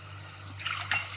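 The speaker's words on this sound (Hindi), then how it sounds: "अब इसमें ऐड करेंगे 1 कप पानी।" A cup of water is poured into a pan of flour roasted over a low flame for a restaurant-style butter garlic chicken; a short, soft splash and trickle over steady background hum.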